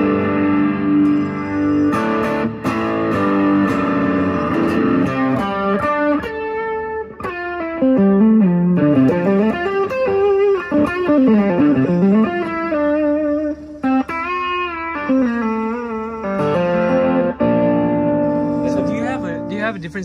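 Heavily distorted electric guitar through a Kingsley distortion pedal plays chords and bending lead notes, loud and close, with a thick sustained tone and echoing effects.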